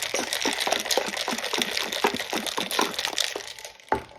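Brown sugar espresso is shaken with ice in a container, a rapid rhythmic rattle of ice cubes and sloshing liquid, close and fairly loud, ending in a few separate knocks.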